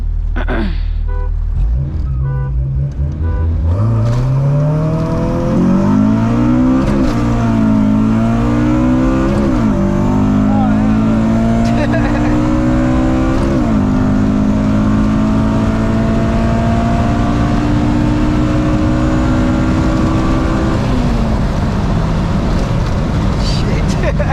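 A Honda Civic with an H2B engine swap launches hard in a street race, its engine revving loud and close from inside the cabin and climbing through several gear changes, with the pitch rising, dropping and rising again.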